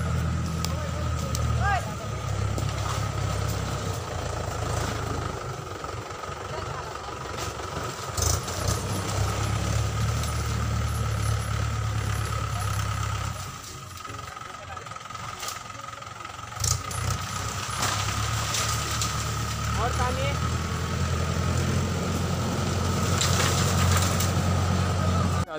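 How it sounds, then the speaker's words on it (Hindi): A tractor engine runs at a site where cut bamboo is being collected. It makes a steady, loud, low rumble throughout, dipping briefly midway, with faint outdoor noise above it. "ट्रैक्टर आ रहा है वहाँ पर जमा कर रहा है, इकट्ठा कर रहा है"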